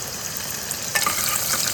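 Curry leaves dropped into hot oil with cumin give a loud, crackling sizzle that flares sharply near the middle and then keeps frying steadily, close by and with no talking.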